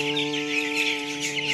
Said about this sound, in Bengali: আপনারা দেখছেন সিলেট নাইনবেড় খামারে টাইগার মুরগির বাচ্চাগুলো